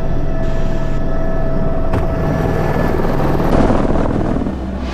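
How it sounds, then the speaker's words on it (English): Helicopter rotor and turbine drone, loud and steady throughout with a constant whine, easing slightly near the end; no talking over it. "Let's get to the chopper."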